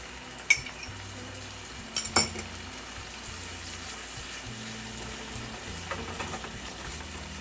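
Coconut milk goes into frying masala for prawn malai curry, giving a steady, low sizzle with a few sharp clatters and splashy bursts near the start.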